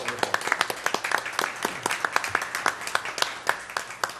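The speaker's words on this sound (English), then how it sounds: "Let's give that a big round of applause" People at a Burke County Commission meeting give a round of applause, a moderate crowd of scattered, overlapping claps with individual hand strikes standing out, continuing steadily throughout.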